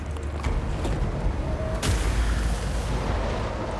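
A mortar fires in a video game: one sharp booming shot over a steady low battle rumble, with soft distant thuds before it.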